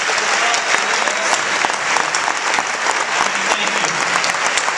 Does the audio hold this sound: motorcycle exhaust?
no